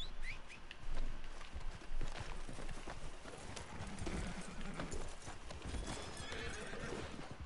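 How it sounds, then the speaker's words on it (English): Horse hooves clip-clop in a video game, a rhythmic series of hoof strikes with a horse whinny, fairly faint and set against game ambience. "Yo, that's my horse."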